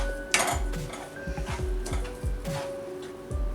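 A spoon scraping and clinking against a pan while paneer is mixed into a sweet mango and milk powder mixture, quick irregular metallic taps and scrapes at close range.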